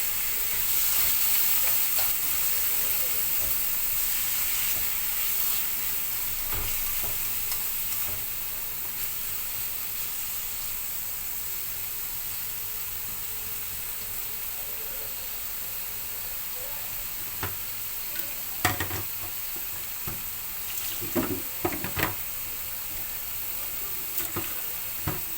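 Chicken fries in a pan for chicken soup, giving a loud, steady sizzle throughout, with occasional scraping stir clicks near the end.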